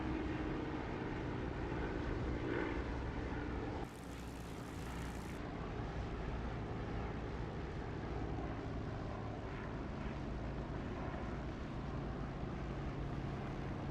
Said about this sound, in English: This is a lovely engine sound, this really is.